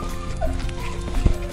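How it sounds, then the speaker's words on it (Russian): A dog on a walk whines and gives a high squeal, close up, with a brief sharp yelp near the end, over outdoor background noise. "Вышли, Миша там уже визжит, скулит."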